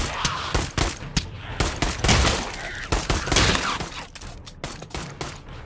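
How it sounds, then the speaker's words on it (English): Rapid bursts of gunfire in the game Pavlov, sharp repeated shots in quick volleys with short pauses, loud and close. "I hear gunshots"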